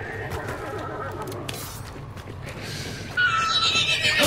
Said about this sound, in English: Nope, that's a dead horse.